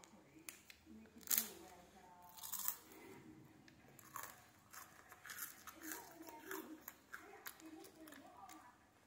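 Crunchy Nutella chocolate wafer snack bitten and chewed close up, with irregular crisp crunches and clicks over several seconds amid soft background noise and no talk.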